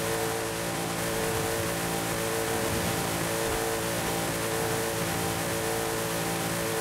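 A Rossion Q1 engine holds a steady, droning high-revving note as the car runs flat out down a straight in Forza Horizon 5, a continuous mid-loud hum with no pauses.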